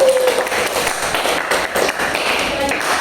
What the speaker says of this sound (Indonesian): Aplaus dulu untuk Taufik.